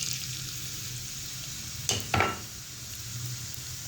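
Chopped onions frying in hot oil give a soft, steady sizzle, broken by two quick louder clatters as they are tipped and stirred in the pan.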